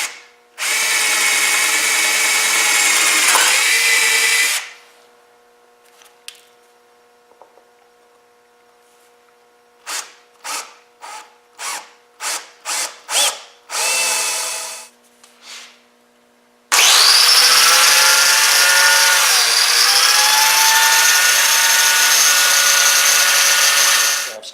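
Power drill boring side holes into a clamped wooden nightstand part with a 7/64 bit, loud sustained whirring bursts at the start and end, with a run of short rapid trigger pulses between them and no talk.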